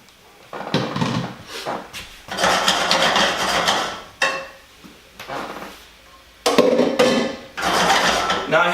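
Raw carrots dropped and tumbled into a metal cooking pot for brown-sugar carrots, a series of loud clattering bursts separated by short pauses, close by.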